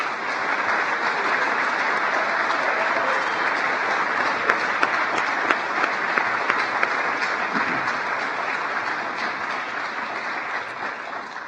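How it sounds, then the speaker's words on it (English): Sustained applause from the audience at the 2023 Praemium Imperiale ceremony honoring the laureates, a dense, steady clapping that fills the room loudly and evenly from start to finish with no one speaking over it. "please join me in giving our 2023 Praemium Imperiale Laureates another"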